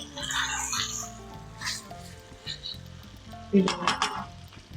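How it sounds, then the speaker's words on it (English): Chicken frying in masala and ghee sizzles in a pan, with occasional stirring clinks and soft background music; a louder burst of sizzling comes near the end. "I'm going to fry the masala along with the chicken for another 2 minutes."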